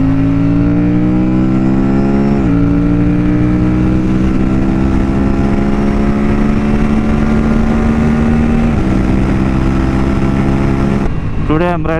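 Aprilia RS457 motorcycle with quickshifter and sprint air filter, carrying a pillion, braking and downshifting without the clutch; a loud, steady engine drone with stepped pitch changes as gears drop, wind roar underneath, and a brief rev blip near the end.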